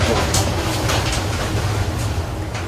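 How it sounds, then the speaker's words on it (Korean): An airport railroad train running toward Seoul Station, heard as a steady, close rolling rumble that continues evenly throughout. "이제 기차가 목적지인 서울역으로 달리기 시작했는데요."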